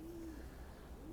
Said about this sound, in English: Pigeons do that coo. That's their sound.